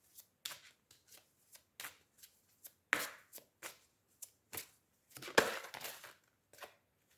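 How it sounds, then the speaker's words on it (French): Angel oracle cards handled and drawn from a deck during a French love-reading for Cancer, giving a string of brisk shuffling and flicking sounds, close and fairly quiet, with short gaps between strokes and no talking. "je vais prendre encore une carte des anges de l'amour pour les cancers sentimental"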